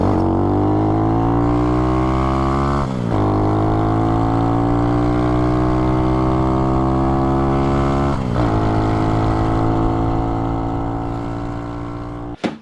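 A Honda Chaly 4MINI motorcycle engine pulls uphill in fourth gear, a loud, steady, close buzz whose pitch rises gradually, broken by two brief dips near three and eight seconds before climbing again.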